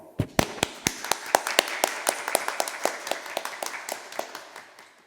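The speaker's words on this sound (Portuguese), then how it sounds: "eu gostaria de dar uma salva de palmas para o trabalho realizado em Conselheiro Lafaiete pela Igreja Universal." Applause in a council meeting chamber: a round of handclaps with sharp, separate claps, loud at first and thinning out over about five seconds, with no talk.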